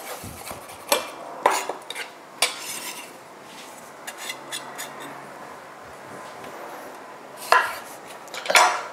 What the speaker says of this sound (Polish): Przesiekamy sobie drobno ząbek czosnku